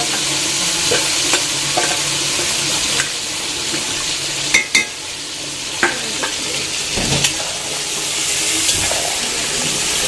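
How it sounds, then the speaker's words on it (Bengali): Mutton biryani masala is stir-fried in a pan over a wood fire, with a continuous loud sizzle and repeated scraping and clanking of a spatula against the pan. No one speaks. "এইবার এইটাকে আমি ভালো করে কষাবো।"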